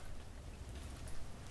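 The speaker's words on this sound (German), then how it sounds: "Es regnet nur ein bisschen." Rain in the video game Minecraft, a soft, even patter of falling drops with a low rumbling undertone, faint and steady with no voices.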